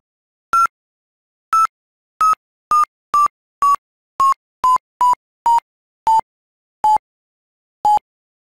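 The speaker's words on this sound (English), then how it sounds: "FlySight can use any value, so for example, speed or glide ratio, to control the pitch of a regular tone." FlySight skydiving audio tone: a series of about thirteen short, clean electronic beeps whose pitch gradually drops while the gaps between them shorten and then lengthen, heard alone with no talking.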